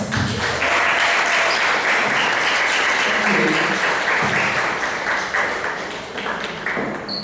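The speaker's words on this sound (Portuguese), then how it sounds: "Muitas palmas." An audience claps steadily and loudly for several seconds at an urban laboratory anniversary event, with faint voices mixed into the dense applause.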